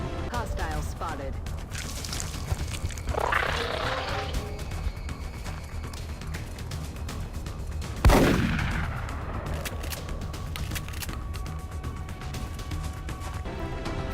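Gunfire from a squad soldier in the turn-based tactics game XCOM, a sharp loud shot midway that rings out and decays over a bed of steady game ambience and music.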